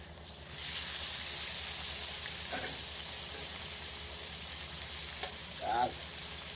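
Pork fries in a pan for spicy adobo alongside chicken skins, a steady quiet sizzle throughout with a few brief clinks and a short voiced sound near the end.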